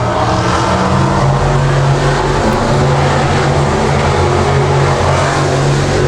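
A race car, the front construction 50X, drives deep into turn 3 with a loud, steady engine roar that holds a continuous droning pitch throughout, close and alone with no talk.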